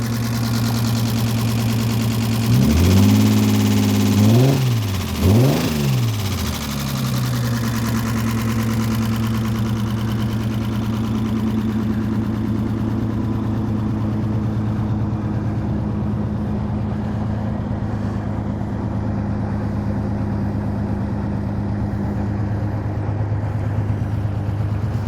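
A car engine runs on battery power alone with no alternator fitted, idling steadily and close, with a couple of quick revs early on before settling into an even hum.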